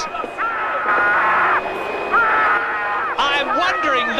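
A driver screaming with excitement over team radio after winning the 1991 Brazilian Grand Prix at Interlagos, a loud, strained, wavering voice in sustained yells with brief breaks, plus a second excited voice near the end.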